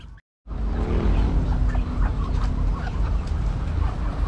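Chickens and a rooster cluck steadily at feeding time on a farm, a dense, continuous flock chatter close by after a brief silent gap at the start.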